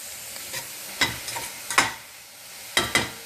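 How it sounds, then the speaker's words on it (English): Mushrooms are stirred in a hot pan for a keto cheese sauce, with a low steady sizzle broken by several sharp scraping clacks spaced irregularly. "So I'm going to go ahead and add the mushrooms."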